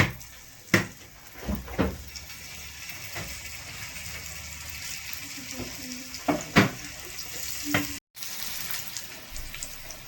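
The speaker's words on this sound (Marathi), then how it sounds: "तेल तापलंय, आता वड्या टाकू बरं." Leaf vadis made from wild hill greens frying in hot oil, a steady close sizzle running throughout, broken by occasional clinks and scrapes of a utensil against the pan.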